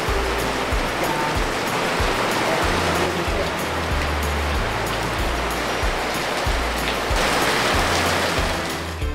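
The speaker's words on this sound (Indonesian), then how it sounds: "di luar masih hujannya deras banget" Heavy rain pours steadily outdoors on a hill in Lombok, a dense, loud, continuous wash with irregular low thumps throughout and no voices.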